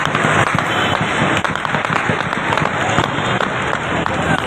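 Gunfire from Pakistani Rangers at protesters throwing tear gas shells back: rapid, irregular sharp cracks and pops in quick succession, loud and close, over a noisy crowd.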